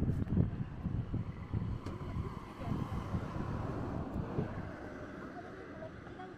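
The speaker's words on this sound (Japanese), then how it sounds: "ああ、風がビューと言ってんな。" Wind gusts across a microphone outdoors at a hillside park with cherry blossoms and flower fields in Kagoshima, a steady low rumbling buffet that is loudest early and then settles into constant blustery noise.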